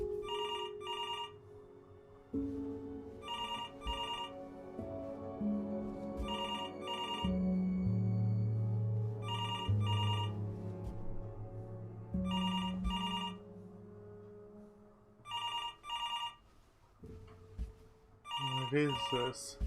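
A telephone in the video game Before Your Eyes rings in repeated paired bursts about every two and a half seconds over low, sustained music tones.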